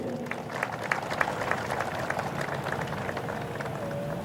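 A crowd applauds for the laborers who built Gaddafi Stadium, a dense, steady patter of many hands clapping together at moderate loudness, sustained without a break.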